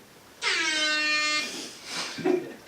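A single loud, blaring air horn blast holds for about a second, then cuts off, leaving some faint noise behind.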